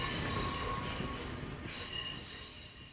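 Train wheels squeal in a busy rail yard roundhouse, a sustained high metallic screech over low rumbling railcars, close and continuous.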